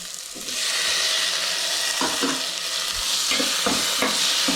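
Chicken and onions fry in a pan for pepper chicken dry, a loud continuous sizzle broken by several scraping stirs of a spoon, with no talking.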